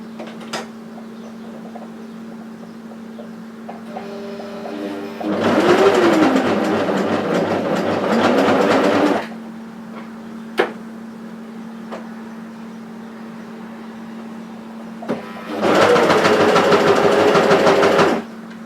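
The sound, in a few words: cover stitch sewing machine stitching a raglan seam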